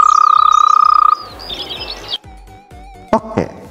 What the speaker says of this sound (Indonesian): Beberapa spesies kodok dan bangkong.